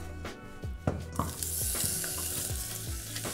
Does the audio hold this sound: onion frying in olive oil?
yes